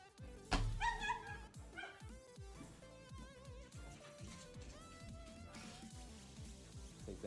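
An excited dog barks in quick, uneven bursts at close range, mixed with other household sounds and thumps, with energetic yips continuing throughout.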